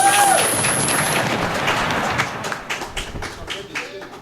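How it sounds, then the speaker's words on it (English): Audience applause after a podcast panel: a dense wash of clapping that starts loud and gradually thins into scattered individual claps. "Panel 2, everyone. Give us a round of applause."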